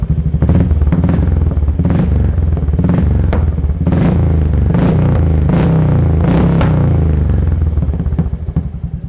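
A Royal Enfield Classic 350 Reborn fitted with an aftermarket silencer idles and revs close by, its deep thumping exhaust beat loud and steady throughout.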